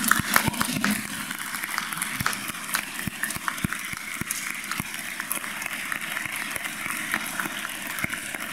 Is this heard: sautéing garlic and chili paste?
no